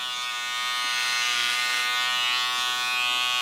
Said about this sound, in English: The nice thing of this clipper is that it has a little length on the blade, so you can get around the ear